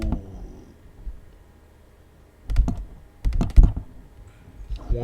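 Close computer keyboard keystrokes come in short bursts of quick taps separated by quiet pauses, with a faint background hum.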